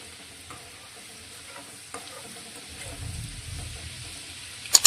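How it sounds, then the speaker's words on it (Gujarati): Garlic sautéing in a pan on the stove, a soft continuous sizzle with occasional stirring scrapes that grow a little louder toward the end, no speech. "હવે લસણ આપણું થોડું આછું ગુલાબી થાય ત્યાં સુધી તેને આપણે સાતરીશું।"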